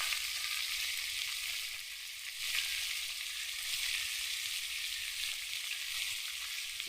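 Potatoes and onions fry in hot oil in a Bengali village kitchen, a steady bright sizzle running continuously at close range with faint low knocks underneath and no speech.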